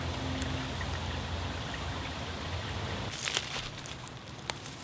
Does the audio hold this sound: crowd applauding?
no